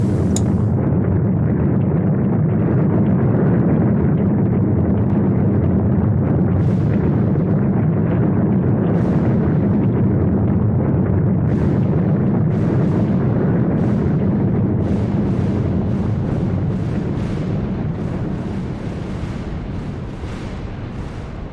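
Nukes firing and detonating in the strategy video game Superpower 3, a continuous loud roar of rumbling blasts and booms with sharp bursts layered on top, fading slightly toward the end.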